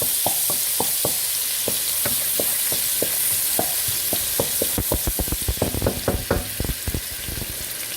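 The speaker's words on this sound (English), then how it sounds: "along with some onions before the butter burns, and also some chopped and crushed garlic. I'm going to stir that up a little bit." Onions and chopped, crushed garlic frying in butter over an outdoor camp fire in rain, stirred with repeated scraping clacks over a steady close sizzle that grows busier toward the end.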